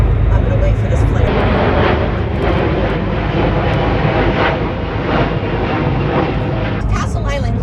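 A fixed-wing airplane flies over Boston Harbor near Castle Island, its engine a steady, broad roar that stays loud throughout, heard from a harbor cruise boat with other background noise.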